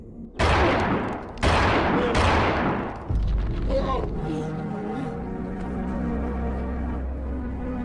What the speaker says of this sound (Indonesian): Tidak lama kemudian terdengar suara tembakan